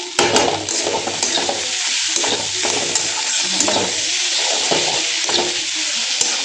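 Food sizzles loudly in a pan with three green chillies and chopped coriander, stirred with repeated scraping strokes and occasional sharp clicks over a steady frying hiss.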